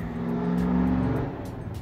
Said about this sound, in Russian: И вот сейчас я хочу заводить двигатель